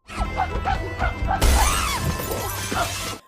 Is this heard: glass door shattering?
yes